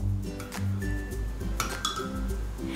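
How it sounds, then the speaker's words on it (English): Glitter snow slime stirred in a bowl gives light clinks and taps of the utensil against the bowl, irregular and close, with soft squishy mixing underneath. "And now we're gonna stir it up. So stir it up very well."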